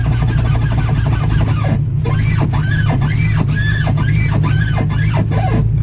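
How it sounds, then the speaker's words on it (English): An Acura Integra with a worn motor mount gives a rapid series of rhythmic, whining squeaks as the steering wheel is turned, over a constant low engine hum. "the squeaking, listen. I'm gonna move my steering wheel now."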